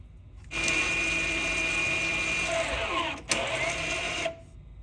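A VW/Audi electric parking brake motor closes, giving a steady whirring drone that runs for nearly four seconds with a brief click near the end before cutting off, fairly quiet.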